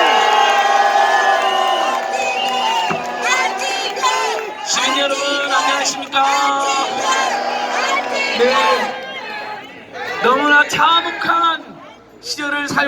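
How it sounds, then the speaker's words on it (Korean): A large outdoor crowd at a candlelight protest rally cheers, shouts and applauds loudly and continuously as a speaker is welcomed to the stage. "안진걸 소장님을 금 박수로 모시겠습니다"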